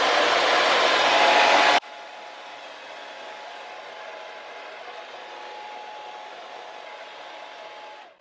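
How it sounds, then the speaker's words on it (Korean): A hair dryer blows hot air, loud and hissing at first, then abruptly dropping to a quieter steady whir with a faint whine until it cuts off. "다시 드라이기 뜨거운 바람을 떠서"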